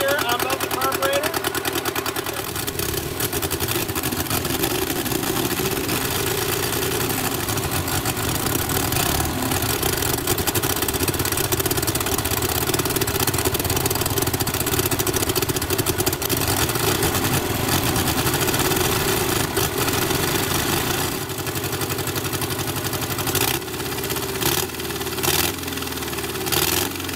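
A barn-find Austin-Healey Sprite with twin carburettors idles steadily and loudly nearby for a long stretch, with brief blips near the end, while a person talks over it.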